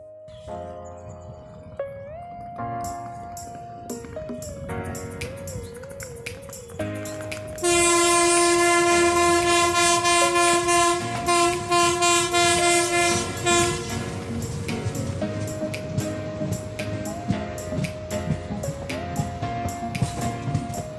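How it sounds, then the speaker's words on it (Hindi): The Begampura Express superfast train pulls out of Nihalgarh station, its horn blaring in long tonal blasts over rumbling wheels and clickety-clack, loud and close. "ट्रेन निहालगढ़ स्टेशन से चल चुकी है।"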